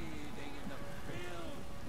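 Rain falls in Skyrim as a steady, even hiss of drops on surfaces, with a faint voice murmuring underneath throughout.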